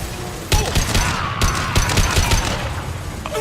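Gunfire in Mass Effect 2 during a combat firefight: a rapid burst of sharp, loud shots and impacts in quick succession, with a game character's voice speaking briefly under the shooting.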